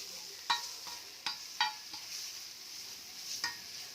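Fish sizzling on a hot tawa with fish masala, a soft steady fry punctuated by several sharp scrapes and clinks of a spatula stirring against the pan, fairly quiet and close with no talking.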